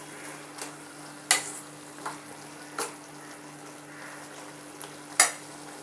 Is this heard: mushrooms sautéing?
yes